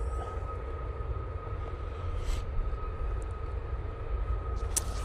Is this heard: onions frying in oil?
no